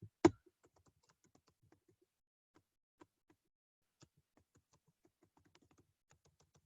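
Keys on a computer keyboard tap sparsely and softly, with scattered clicks at irregular intervals after a sharp knock at the start, in an otherwise quiet room.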